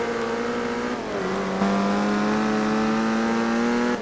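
A sustained car engine in Forza Horizon 2, heard from the cockpit view, roars loudly and steadily with rising harmonic pitch as it revs up through gears, near and continuous with no talk.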